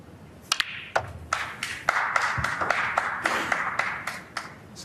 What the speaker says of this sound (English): Some of the crowd, I think, applauding the 100 on the board